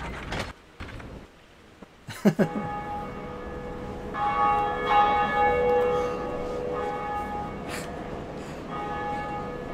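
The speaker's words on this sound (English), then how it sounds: "time to ring the bell" Bell of Awakening rung in the Dark Souls video game: a sharp metallic strike followed by a sustained, ringing tonal chime with layered overtones, over game ambience and mechanical clanks.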